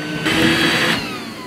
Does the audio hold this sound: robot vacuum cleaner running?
yes